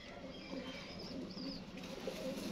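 Pigeons on a rooftop loft in Gujranwala, soft cooing and an occasional flutter of wings, faint and steady against a low background hum.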